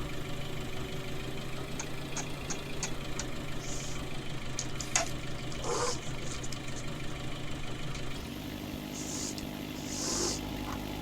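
A tractor engine idles and runs steadily in a farming video game while spraying weed killer, a continuous mid-low drone with faint clicks and occasional swells, no talk over it.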